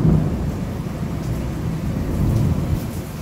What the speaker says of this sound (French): je voulais juste vous montrer la tempête dehors